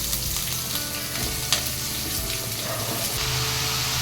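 Roughly cut onions sizzle as they fry in a pan, a steady close hiss and crackle with a faint stir and clink partway through, with no one talking.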